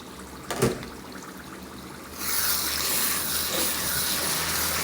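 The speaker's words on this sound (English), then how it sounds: "I'll wash with hot water." Hot tap water gushes steadily into a sink to wash three cups of basmati rice. A brief clatter comes first, then the water runs on without pause and no one speaks.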